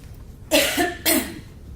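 Two loud, close coughs from a person with a cold, spoken into a microphone, separated by a brief pause, with quiet room tone before and after.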